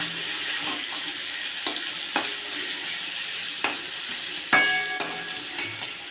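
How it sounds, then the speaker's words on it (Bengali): Salted, turmeric-coated potato pieces fry in fish oil with a steady broadband hiss, broken by a handful of sharp clinks and scrapes from stirring, close and fairly loud, with no voices. "সেগুলো একটু ভেজে নেব ভালো করে লাল লাল করে"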